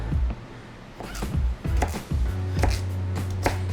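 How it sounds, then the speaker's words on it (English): A knife chops sweet potato into fries on a cutting board, a dozen or so sharp, close thunks that land at an uneven pace. "So you just kind of cut these to where you can cut them in to fries."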